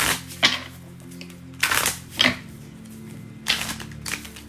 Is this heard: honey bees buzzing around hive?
no